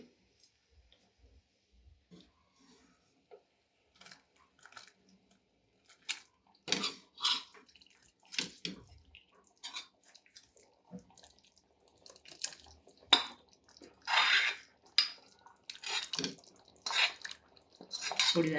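A spoon stirs a pot of vegetable kadhi with pigeon peas and brinjal, giving soft scrapes and metallic clinks that start quietly and grow into irregular, close taps against the pot.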